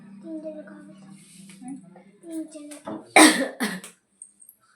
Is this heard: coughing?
yes